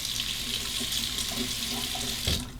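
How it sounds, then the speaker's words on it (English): Hot water runs steadily from a bathroom tap into a sink to warm a safety razor before a wet shave, a constant close hiss and splash throughout with a brief louder knock near the end. "Let's temper the razor under the hot water."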